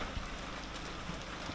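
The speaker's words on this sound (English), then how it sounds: "it's still raining." Steady rain falls outside a tiny home set on a trailer, an even, unbroken hiss of drops at moderate level with no voices.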